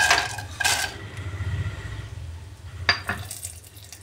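Cashews fry in ghee in a pan with a soft, close sizzle, while a spoon scrapes and clinks against the metal in a few distinct bursts near the start and around the three-second mark.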